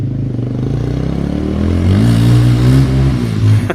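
A motorcycle fitted with an FCR39 carburetor accelerates hard on a test ride, its engine rising into a loud, rough rev that climbs steadily in pitch, close by and uninterrupted by talk.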